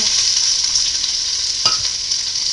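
Sweet onion sautéing in hot oil over medium heat for a Hungarian pepper and tomato stew: a strong, even sizzle held close throughout, broken once by a brief clink of a utensil.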